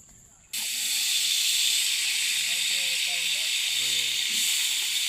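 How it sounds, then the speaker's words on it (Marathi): Chicken sizzles loudly and steadily in hot oil during tempering for a home-cooked meal, a sudden burst of hissing that stays dense and even while faint voices murmur underneath. "काका आता चिकन फोडणी देतात"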